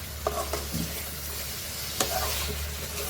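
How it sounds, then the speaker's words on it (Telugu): Chicken pieces coated with red chili powder frying in a pan, giving a steady close sizzle with a few sharp stirring clicks and scrapes, no voices. "ఇది ఫ్రై చేసుకుందాం."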